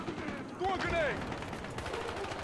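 A K10 gun fires in the video game Battlefield Hardline, a quick rattling stream of shots at moderate distance, mixed with whistling, swooping game effects and general battle noise.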